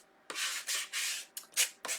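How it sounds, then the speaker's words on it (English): Rasping strokes of sandpaper rubbing overhanging edges of Christmas tree home decor, about six quick back-and-forth passes, close and steady with no voices. "I'm just sanding down these edges that are overhanging"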